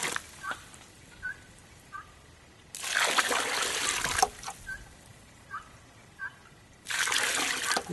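Water poured from a container into soil block mix comes in two loud, broadband gushing bursts of a couple of seconds each, separated by quieter stretches with small clicks and trickles.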